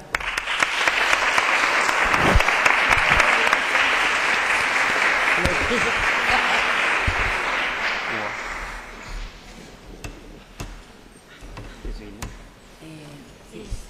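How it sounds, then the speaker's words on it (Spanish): An audience applauds a senator arriving at a school mock legislative session, a loud sustained burst of clapping lasting about eight seconds before fading into scattered claps and low room noise. "Vamos a darle un aplauso titular."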